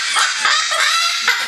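A pet parrot gives a loud, close, raspy laugh in a few cackling bursts.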